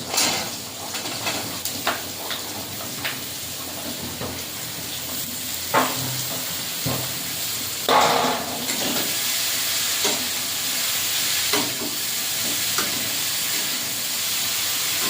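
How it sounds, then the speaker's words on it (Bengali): Pointed gourd and potato pieces tumble into onions frying in hot oil for a potol chorchori, giving a steady close sizzle with scattered clatters and stirring scrapes, no talk. "কেটে রাখা পটল আর আলুটা দিয়ে দেবো।"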